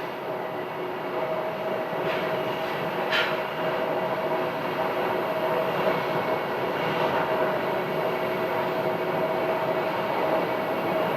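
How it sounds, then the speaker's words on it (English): An Airbus airliner taxis at Phoenix airport with a steady, moderately distant engine hum and a faint tonal whine, unbroken for the whole stretch and with no talking. "And now the Airbus is moving."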